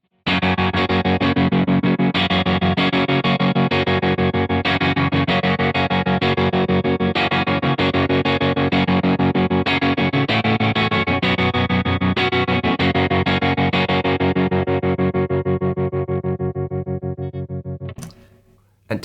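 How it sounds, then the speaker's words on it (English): Electric guitar through a Crazy Tube Circuits White Whale pedal in post mode, where tremolo follows reverb: a long, loud strummed passage pulsing in a fast, regular chop throughout, then fading out, with no voice over it. "if I leave it in the post position, what's happening is the reverb's being chopped with the tremolo."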